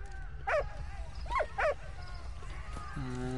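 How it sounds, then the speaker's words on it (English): A dog in the World War I video game Valiant Hearts gives three short, sharp yipping barks, the second and third close together, over a low game background rumble, followed by a brief tonal chime. "Sounds like the dog's name is Walt"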